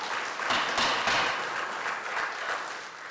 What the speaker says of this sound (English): Please keep the applause to a minimum